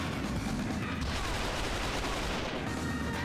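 Dense, continuous gunfire from the PC shooter game XIII rattles on without pause, loud overlapping shots and bursts throughout.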